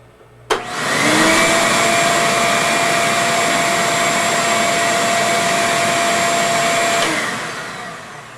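A standard household vacuum cleaner switches on abruptly and runs at a steady, loud, high-pitched whine for about six seconds, then winds down as it is shut off.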